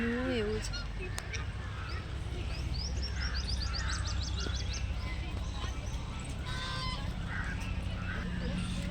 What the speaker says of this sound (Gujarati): બતક છે ચમચો છે ચમચો